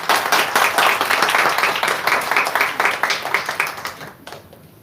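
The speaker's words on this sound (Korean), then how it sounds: "저희 박수 한번 하고 바로 시작할게요" Seminar audience at an IT academy talk claps together, sharp individual claps blending into lively applause that gradually thins and fades out near the end.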